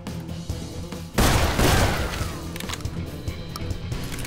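Gunshot in the video game Call of Juarez: Bound in Blood: one loud, booming blast with a rumbling tail breaks over steady game music and ambience.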